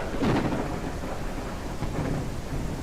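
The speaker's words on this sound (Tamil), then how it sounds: "ஆஹா மழை வேற ஊத்துது" Steady heavy rain with a low rumble of thunder rolling underneath in Ranch Simulator, continuous and fairly loud throughout.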